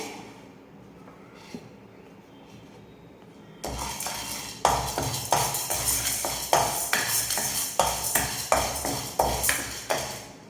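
Chana dal roasting in a metal pan for puliyodharai powder, stirred with a spatula. After a quiet start comes a steady rhythm of close metallic clinks and scrapes, with no talk.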